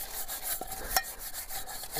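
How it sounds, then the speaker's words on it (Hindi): A cooking pot is scrubbed by hand during a home kitchen cleanup, giving repeated close rubbing and scraping strokes with light metallic clinks, and no voices. "अभी देखो डेक्ची बर्तन धुला रहा है"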